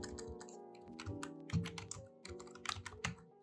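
Rapid, uneven clatter of keys on a computer keyboard while code is typed, close and fairly quiet, with short pauses between bursts of keystrokes.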